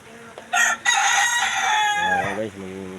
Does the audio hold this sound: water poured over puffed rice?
no